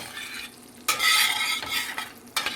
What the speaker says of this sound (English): Just stirring that butter around, letting that butter melt.